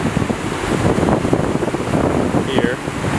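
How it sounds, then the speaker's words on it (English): A stream in Thingvellir National Park, Iceland, near the Oxararfoss waterfall, gives a steady broadband rush of flowing water, loud and continuous, mixed with outdoor wind noise. "And this is the stream"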